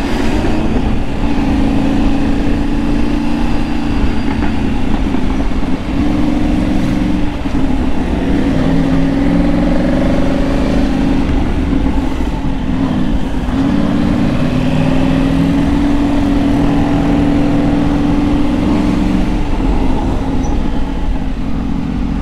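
Yamaha MT motorcycle engine revving on a night ride, with loud, close, wavering tones that climb and fall repeatedly over constant wind and road rush.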